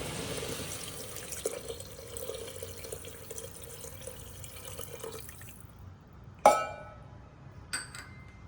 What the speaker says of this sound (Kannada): ಇದರಲ್ಲಿ 9 ಪಟ್ಟು ಹಾಕ್ತೇನೆ ನೀರು